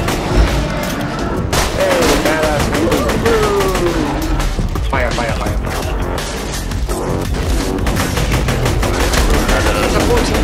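Full-auto weapon fire from the video game Borderlands 2 rattles loudly and continuously, with dense rapid shots and impacts across the whole stretch, and voices now and then mixed in.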